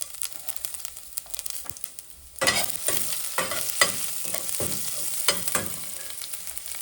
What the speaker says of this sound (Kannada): ಇವಾಗ ಇದಕ್ಕೆ ಒಂದು ಅರ್ಧ ಸ್ಪೂನು ಸಾಸಿವೆ, ಹಾಗೆ ಅರ್ಧ ಸ್ಪೂನು ಜೀರಿಗೆನ ಹಾಕ್ಕೊಳ್ತಾ ಇದ್ದೇನೆ. ಹಾಗೆ ಒಂದು 2-3 ಜಜ್ಜಿರುವಂತಹ ಬೆಳ್ಳುಳ್ಳಿ